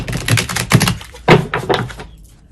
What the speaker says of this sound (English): We're just going to shuffle a couple more times